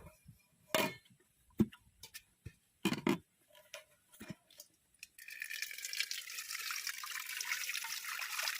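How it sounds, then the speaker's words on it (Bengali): Water drains off washed rice: a few scattered knocks and drips at first, then a steady, close rush of pouring, trickling water that continues to the end. "চাল ধুয়ে নিয়েছি এবার জল ঝরিয়ে নেব"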